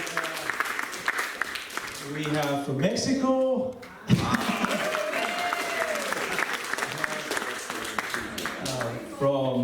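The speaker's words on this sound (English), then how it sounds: "Round of applause for them" An audience at the UK Fruitfest 2022 opening ceremony applauds visitors from America, the steady crowd clapping continuing under someone speaking over a microphone.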